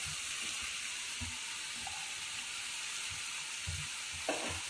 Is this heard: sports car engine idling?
no